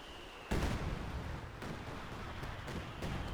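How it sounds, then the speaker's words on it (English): Artillery fire in the video game Company of Heroes 2, opening with a sudden loud blast that leads into a continuous dense roar of shelling and explosions, with further impacts landing throughout. "Artillery just bashing them and all the other stuff."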